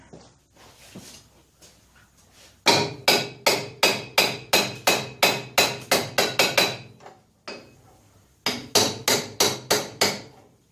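A small hammer strikes repeatedly on a 1959 Riverside Silver Pigeon C80 scooter in quick, even blows, a run of about fifteen sharp knocks, a brief pause, then another steady burst.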